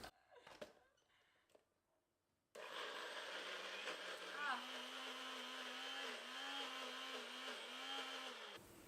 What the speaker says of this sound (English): Now I'm going to give this a little blend,